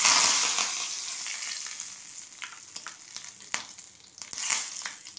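Mustard seeds and curry leaves fry in hot oil left over from frying fish for a Bengali fish curry, giving a steady close sizzle with sharp crackles and pops that swell at the start and again near the end.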